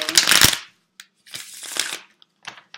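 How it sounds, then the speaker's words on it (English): Quick riffling bursts of tarot cards being shuffled, two main flurries with short soft taps between, close by and fairly loud. "Sometimes when a card pops out, I keep shuffling"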